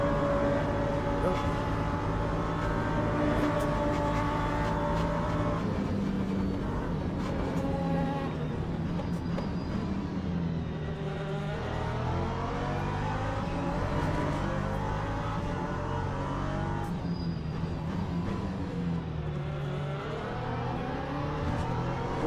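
LMP2 prototype race cars in a racing video game roar past with rising and falling engine tones, layered revving over a steady loud drone of the player's car.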